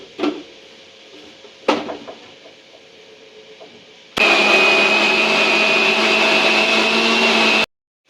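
An electric blender whirs loudly through a banana smoothie for about three seconds and then cuts off abruptly, after a couple of sharp knocks and clatters from the jug being set up.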